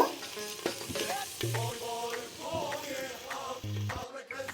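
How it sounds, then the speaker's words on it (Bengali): Onions frying in hot oil in a pan for a Bengali handi chicken curry, a steady close sizzle broken by repeated scraping and knocking stirs with a few louder clunks. "এবার পেঁয়াজগুলোকে খুব ভালো করে ভেজে নিব।"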